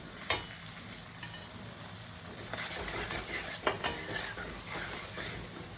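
Garam masala frying in hot oil for a duck egg and potato curry, a soft sizzle under scattered clinks and scrapes of a spoon stirring the pan, close and without talk.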